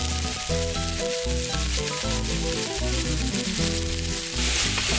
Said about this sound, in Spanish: Primero voy a sellar la carne de res. Le ponemos un poquito de aceite y una pepita de ajo.